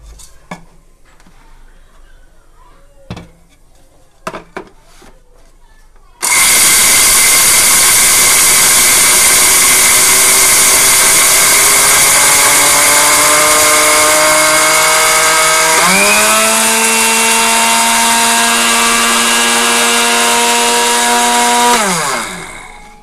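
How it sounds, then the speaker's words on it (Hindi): Electric blender grinding black pepper and cumin roars in abruptly after a few faint clatters, holding a loud steady whine with a pitch drop partway through before cutting off. "जी तो अभी हम इसमें इसको ब्लेंडर कर लेते हैं,"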